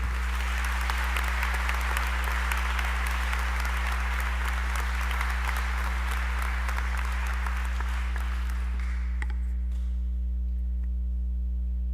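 An audience at the 2015 University of New England convocation applauds steadily for about nine seconds to welcome a speaker to the podium, with a low hum underneath, before the clapping fades out.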